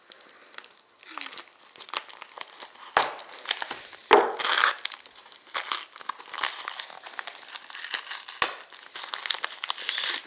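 Loud, close crinkling and rustling of newspaper and plastic bag packaging around circuit boards, continuous and uneven, with occasional sharper tearing crackles.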